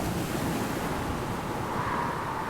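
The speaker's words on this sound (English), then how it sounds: "The wind blew hard. The waves grew huge." A stormy sea roars with strong wind and crashing waves, forming a loud, steady wash of noise with no pauses.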